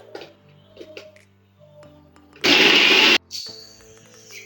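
A kitchen mixer grinder grinds grated coconut with half a cup of water for coconut milk, one loud, harsh burst of under a second, with quieter clicks and handling before and after.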